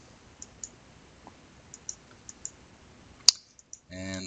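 Computer mouse clicks heard close and sharp, a scattered handful of light taps and then one louder click, followed by a brief burst of talk at the end.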